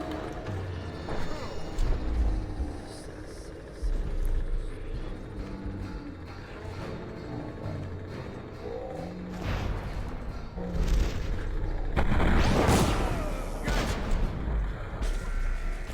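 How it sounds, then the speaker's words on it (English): A grenade explodes in the stealth game Dishonored: The Knife of Dunwall, a loud booming blast rising near the end over steady gameplay noise, with earlier thuds and clashing combat sounds. "Actually, I could just use a grenade."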